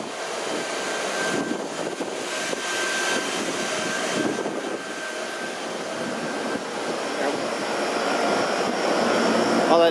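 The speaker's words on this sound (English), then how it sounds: "All that noise you hear is the laundry for the La Siesta Hotel" Laundry machinery at a hotel gives off a continuous, moderately loud droning roar with a faint steady whine, growing slightly louder toward the end of ten seconds with no clear talking.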